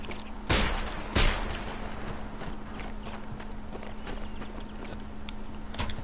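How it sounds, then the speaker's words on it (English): A Webley Mark 6 British officer's revolver fires in the war game Sniper Elite 4, with two sharp, loud single shots about a second apart, then quieter mechanical clicks and a fainter third report near the end. "This is the Webley Mark 6, a British revolver preferred by officers."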